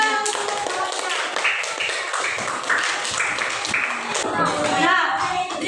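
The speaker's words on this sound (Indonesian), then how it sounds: "tepuk tangan" A classroom of children clapping hands together, a dense run of sharp, close claps with kids' voices chattering over it.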